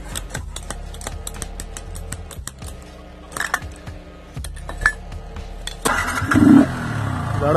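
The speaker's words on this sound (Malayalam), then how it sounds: "ഇതാണ് വണ്ടിയുടെ ശബ്ദം." A Yamaha motorcycle fitted with an aftermarket filter, heard close: sharp mechanical ticking and clicks come first, then the engine catches near the end and rises into a louder, rougher rumble.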